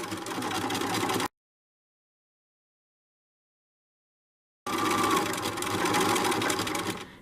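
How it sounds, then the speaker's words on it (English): A sewing machine runs a zigzag stitch on fabric for a decorative pillow, buzzing rapidly and steadily in two close bursts separated by a few seconds of silence. "I'm going to go ahead and start doing the zigzag stitch"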